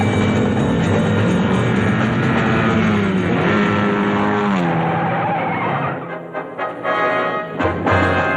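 A car drives hard with a loud, steady engine roar and tires squealing in a skid, then the noise drops off and gives way to scattered knocks near the end.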